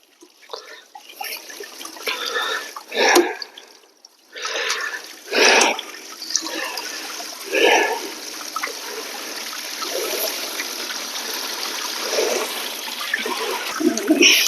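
Water poured back into a gold prospecting sluice box, a run of splashing and trickling bursts with short pauses between pours, close and moderately loud, no talking over it.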